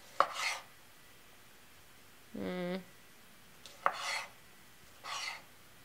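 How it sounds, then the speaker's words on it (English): Knife chops on a cutting board come in short separate bursts with pauses between, close and fairly quiet, with a brief voiced sound in the middle. "So here I go, chopping up"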